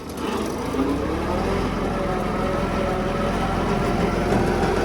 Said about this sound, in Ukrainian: Тракторець розвертається. Передні колеса їдуть швидше, ніж задні.